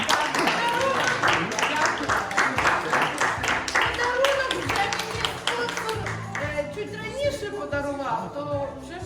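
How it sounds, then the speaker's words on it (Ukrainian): Seminar audience applauds in a hall, a dense run of clapping that holds steady at first and thins toward the end as voices and music carry over it. "Оплески!"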